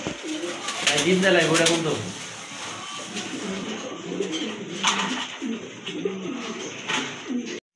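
Pigeons of mixed local and foreign quality breeds at a wholesale pigeon market in Bangladesh coo steadily in the background, while voices talk loudly over them throughout.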